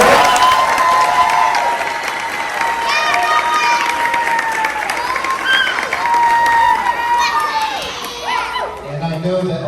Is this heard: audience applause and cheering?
yes